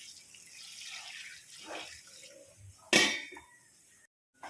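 A small splash of water goes into a pan of string beans being cooked in a home kitchen, a brief pouring burst amid quiet clinks and faint stovetop sounds.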